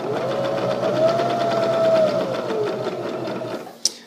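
A sewing machine runs steadily while stitching a seam along the side of a pillow, a close, continuous mechanical whir that ends with a short click.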